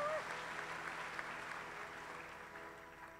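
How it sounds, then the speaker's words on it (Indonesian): A church congregation claps together in a dense, sustained burst of applause that fills the room at an even level, then gradually thins out toward the end. "Kasih tepuk tangan sekali lagi buat Tuhan Yesus."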